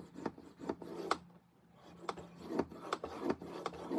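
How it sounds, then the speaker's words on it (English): Scoring tool drawn repeatedly across cardstock for a handmade tile-technique card, giving a series of short, close rasping strokes in an uneven rhythm, with a brief pause midway and no talking. "So I'm just going to score it several times and do it on this side."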